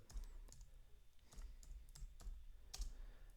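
Someone types a short tag on a computer keyboard, producing a quiet, close series of crisp key clicks in irregular bursts with soft thumps between them.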